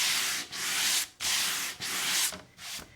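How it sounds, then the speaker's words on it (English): Sixty-grit sandpaper on a sanding block scrubs across a board in five long, steady back-and-forth strokes with short pauses between them, close up with nothing else heard. "now I'm going to take my 60 grit sandpaper that's on a sanding block"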